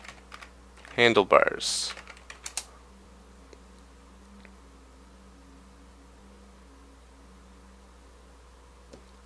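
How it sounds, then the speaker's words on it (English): Close, quiet computer keyboard typing, a steady patter of light key clicks running through nearly the whole stretch, with someone briefly speaking near the start. "I'm just going to type Bower, install, save,"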